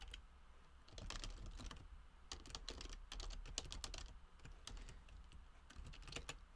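Code typed on a computer keyboard, a close, quiet run of irregular key clicks and taps in quick bursts with no talk.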